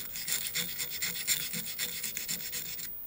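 A metal part of an HTS 2000 Stirling engine being scraped by hand, a run of rhythmic rasping strokes about twice a second, close and moderately quiet, stopping abruptly at the end.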